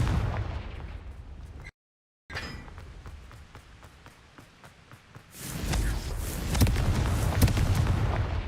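A Confringo blast curse in Hogwarts Legacy sets off loud booming explosions, one after a brief silent gap and then a heavy rumbling burst that swells toward the end, with no talk.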